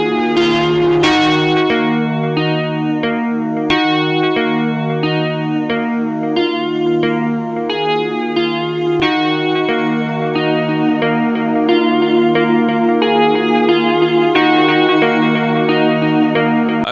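Synthesizer from a sample plugin run through drive, reverb and delay, slow sustained chords with rich harmonics and a lush, echoing tail, loud and continuous for about seventeen seconds with no talk.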